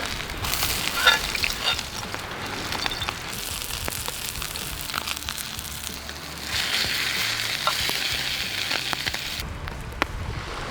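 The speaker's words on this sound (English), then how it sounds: "Oil a really hot pan, steak goes in, sear on each side" Wild game steak sears in a very hot oiled pan, giving a steady, close sizzle and crackle that holds evenly throughout with no talking.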